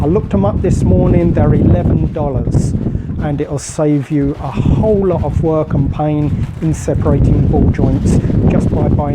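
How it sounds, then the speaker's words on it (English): Someone talks continuously while heavy low rumbling wind buffets the microphone in uneven gusts throughout, outdoors on a very windy day beside a Mitsubishi 3000GT/GTO. "Excuse the noise, we've got a very windy day here today and it's creating havoc."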